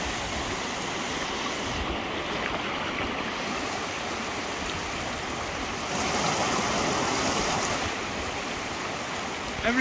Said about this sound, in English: Everywhere we turn, James, there's little waterfalls, look.